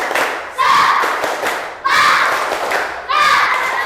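Children perform the 'tepuk semangat' clapping chant in a lively group, three loud bursts of shouted chanting with claps and thumps, close and energetic.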